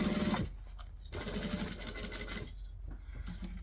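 Domestic sewing machine stitching a coffin-shaped handbag, running in close steady bursts with brief pauses as the needle stops and the fabric pivots at a corner.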